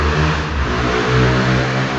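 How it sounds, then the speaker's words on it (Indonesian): A motorcycle engine passes close by, loud and steady with a mid-pitched throbbing drone that swells slightly through the short stretch, with no talk over it. "Motor, suara motor."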